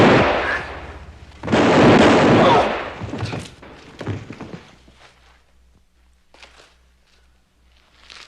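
Two heavy gunshot blasts from a 1959 Western TV drama ring out close and loud, each followed by a rolling echo, and then fainter thumps and quiet rustling.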